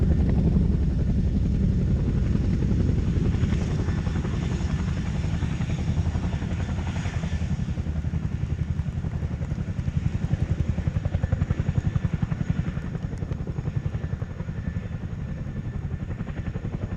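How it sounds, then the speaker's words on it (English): A Chinook twin-rotor helicopter performing a display at the RAF Cosford Air Show 2025 gives a loud, steady, throbbing rotor roar with a deep rumble that holds close and constant throughout, with no voices. "see a Chinook party piece, one of the only helicopters in the world that can reverse on 2 wheels"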